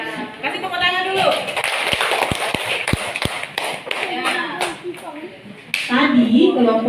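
In a classroom, a group claps in a short burst of sharp, separate claps, mixed with voices talking and children's chatter before and after.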